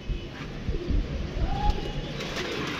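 Pigeons coo softly over low background rumble, a few brief murmuring calls close by.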